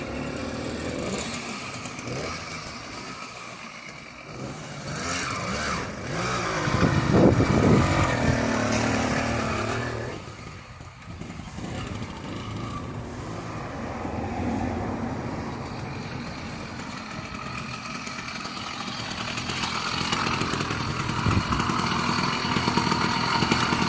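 A small two-stroke motorcycle engine runs steadily for the whole stretch, with a louder rev in the middle, nearby and without voices.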